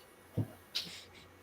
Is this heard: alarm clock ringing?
no